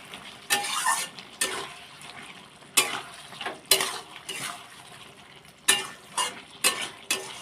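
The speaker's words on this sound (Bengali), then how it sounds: "একটু চিনি দিয়ে দিতে হবে, দিয়ে আর একটু ভালো করে নাড়িয়ে নেব।" A pumpkin and fish head curry being stirred after sugar goes in, with repeated sharp clinks and scrapes of a spoon against the pot over a soft simmering sizzle, close by with no voices.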